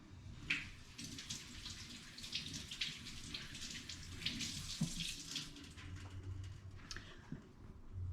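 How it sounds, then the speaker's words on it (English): Water runs from a kitchen tap while hands are washed, a steady splashing rush broken by uneven bursts as the hands move under the stream, with a faint low hum beneath. "So let me get my hands washed real fast."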